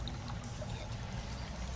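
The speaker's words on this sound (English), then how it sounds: "It's got the river running through it, various cave sounds." Goblin cave ambience from a tabletop RPG soundtrack: a faint, steady trickle of running river water with low rumbling cave tones, continuous and quiet.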